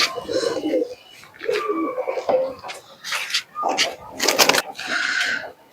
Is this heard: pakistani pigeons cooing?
yes